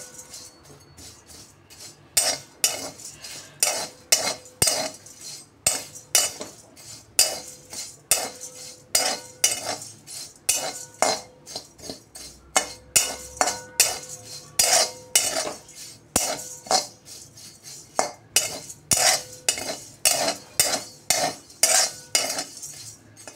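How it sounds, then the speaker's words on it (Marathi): Poha being roasted in a pan while a spoon stirs it, with repeated close metallic scrapes and clinks in a steady rhythm over a faint background. "पोहे पण आपले छान असे क्रिस्पी होईपर्यंत आपण याला भाजून घेणार आहे।"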